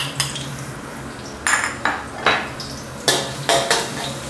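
Small Thai garlic is stir-fried in a pan for Thai soy sauce fried rice, with a light sizzle beneath repeated sharp clinks and scrapes of a utensil against the pan, about seven distinct strikes spread unevenly, and no talk.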